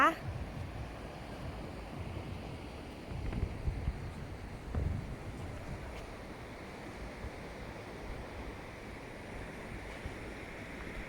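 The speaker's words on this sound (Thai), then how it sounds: "นี่คือเสียงคลื่นนะคะ" Sea waves wash onto a long beach at low tide at night in Prachuap Khiri Khan, Thailand, making a soft, steady rumble with a couple of fuller surges early on.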